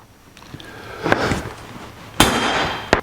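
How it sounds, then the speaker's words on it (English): A center punch is struck with a hammer to mark holes in metal for drilling a transmission cooler mount on a 1949 Chevrolet gasser, giving three sharp metallic taps spaced about a second apart amid light shop handling noise. "So let's center punch these holes for the drill."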